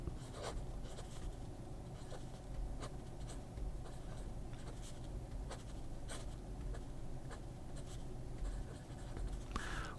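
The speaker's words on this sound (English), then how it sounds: "I'm going to be quiet and let the writing do its job." A Lotus Titan fountain pen nib scratches and glides across paper in quiet, close strokes, with soft repeated scratches over a low background hum.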